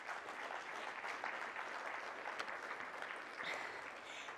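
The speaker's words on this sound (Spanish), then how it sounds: "dale un aplauso a Él si tú lo recibiste" A church congregation claps continuously, a dense, even patter of applause that stays steady for the whole stretch.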